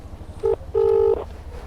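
Two electronic telephone tones sound close and clear, a short beep followed by a longer one, over a quiet low hum.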